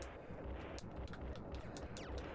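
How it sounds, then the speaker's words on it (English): Explosions in the retro video game Teenage Mutant Ninja Turtles IV: Turtles in Time, a string of short blasts and pops over a steady busy game soundtrack. "Oh, these explode."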